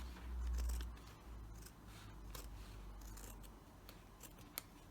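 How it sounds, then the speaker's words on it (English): Scissors snip around the edges of fabric while sewing a heating bag, a series of faint, quick crisp cuts close by with a low hum underneath and no talking. "I'm just going to go around the edges, and be careful with the scissors"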